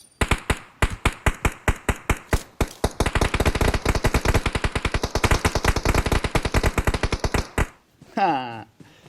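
Suppressive gunfire in the video game PUBG Mobile: sharp, loud shots, spaced at first and then a long, fast, steady automatic stream that ends abruptly, followed by a brief whooshing tail.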